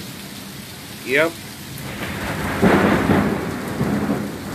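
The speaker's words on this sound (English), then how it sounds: "It's raining, it's pouring, and it's lightning." Heavy rain hisses steadily during a thunderstorm while a deep thunder rumble swells midway and lingers. A voice briefly calls out early on.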